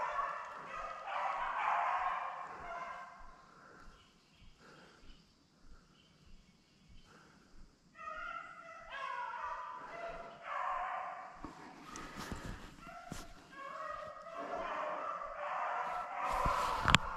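Beagles bay and yip in harmonic bursts while chasing a rabbit on a hunt outdoors, with several dogs at mid distance, calls rising and falling in overlapping runs.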